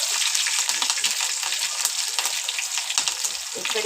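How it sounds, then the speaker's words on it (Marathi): Green chillies and garlic fry in a hot pan with a steady, dense sizzle and crackle that stays loud and even throughout, with no one speaking. "मी याच्यामध्ये आता पहिल्यांदा टाकणार आहे मी ही हिरवी मिरची त्याच्यानंतर मी हा व्यास टाकणार आहे लसूण करून घेतलेला आहे"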